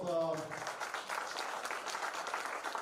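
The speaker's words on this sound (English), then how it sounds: "give a big round of applause for yourself" A crowd claps in a brief burst of applause, steady and moderately loud, after a voice trails off at the start.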